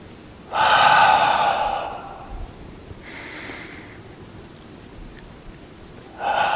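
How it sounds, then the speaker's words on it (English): Slow, deep breathing during a seated Tai Chi flow, with a long breath in, a softer breath out and another breath beginning, each broad and airy, close and moderately loud against a quiet room. "Breathing in. Breathing out."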